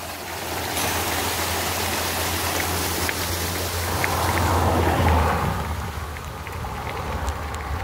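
Pure mountain water running down a small roadside stream in the Campos do Jordão hills, a close, continuous splashing rush with a brief swell in the middle and no talking.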